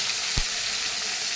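Fish frying in hot oil gives a dense, steady sizzle up close, broken by one brief soft thump as the piece is turned over in the pan.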